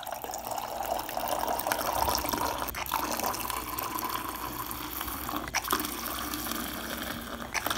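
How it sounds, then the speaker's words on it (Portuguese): Dog drinking water at home, a continuous run of wet lapping and splashing sounds close by, fairly loud and steady, with two brief pauses and no talking. "Esse barulho que vocês devem estar ouvindo é meu cachorro tomando água."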